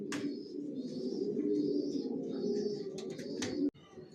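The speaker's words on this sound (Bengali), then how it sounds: "ভিউয়ার্স দেখতে পাচ্ছেন এখানে এক জোড়া অ্যাডাল্ট কবুতর দেখাচ্ছি" A pair of adult racer pigeons cooing close by, a continuous low, throaty warble running steadily with a few brief higher chirps.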